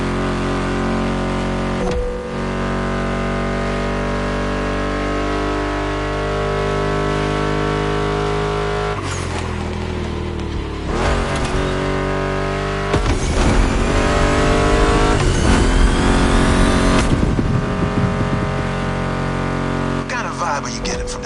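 A Mustang GT muscle car engine rumbles and revs in the racing game The Crew Motorfest, a continuous deep drone that surges into louder revving bursts, blended with background music.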